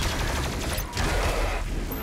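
Plasma cannon fire in the video game Doom Eternal: a dense, continuous barrage of crackling energy blasts that stays loud for two seconds with a brief dip near the middle. No voices are present.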